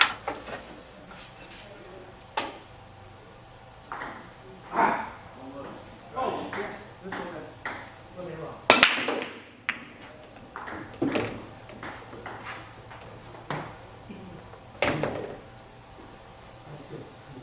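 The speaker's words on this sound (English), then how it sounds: "although that was a pretty crummy break, I made 3 balls on the break" Break shot on a pool table, scattered sharp clacks of balls colliding and knocking into cushions and pockets, spread irregularly over several seconds at moderate distance, with a louder cluster of hits midway.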